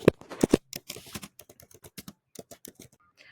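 Rapid keystrokes on a computer keyboard as a question is typed in, close and crisp with uneven bursts and short pauses, no voices.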